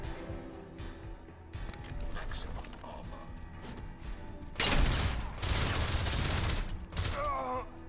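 Submachine gun fire in the shooter Crysis Remastered, a dense rattling burst that swells loud midway and keeps going in bursts among other battle noise.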